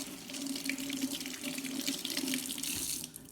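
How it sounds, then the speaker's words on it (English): Tap water runs steadily over a tomato being washed at a kitchen sink, a continuous close splashing rush that varies slightly as the stream hits the fruit. "Just poured some water on it."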